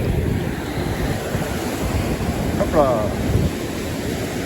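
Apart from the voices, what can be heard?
ocean waves breaking on the beach during surfcasting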